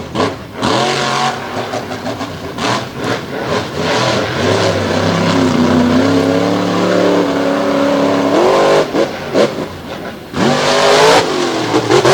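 Wrecking Machine, a Cohen Chassis monster truck, roars through a freestyle run at an outdoor arena show, its big engine revving hard and continuously with rising and falling surges, loud and close throughout.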